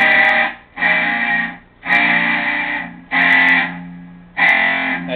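Electric guitar on the bridge pickup, wired parallel out of phase, through heavy distortion: five loud sustained chords with short gaps between them, played alone.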